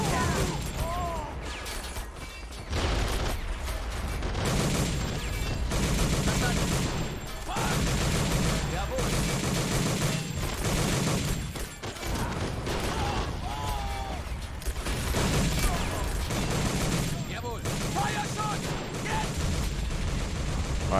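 Heavy gunfire and crossfire in a WWII battle for Dinant in the video game Men of War: Assault Squad 2, with rattling machine-gun bursts, single shots and mortar blasts layered continuously, a voice talking intermittently under the din.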